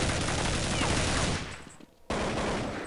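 Dense, rapid gunfire from the video game Counter-Strike 1.6 on the dust_2 map, a loud continuous burst that fades, cuts out briefly, then resumes at full strength.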